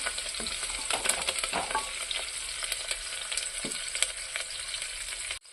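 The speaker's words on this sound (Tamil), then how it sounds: "இது கூட நம்ம கருவேப்பிலை ஆட் பண்ணிக்கலாம். நல்லா வணக்கிக்கலாம்." Onions and curry leaves sauté in a pan for parotta salna, giving a close, steady frying sizzle broken by frequent scraping stirs of a spoon, with no voices.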